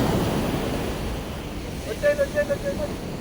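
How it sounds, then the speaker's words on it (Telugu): Steady surf washing on the shore at Perupalem beach at night, with wind rumbling across the microphone, and a few brief tonal calls near the end. "చూడండి అలలు చూస్తారా ఎంత ఫీల్ వస్తాయా"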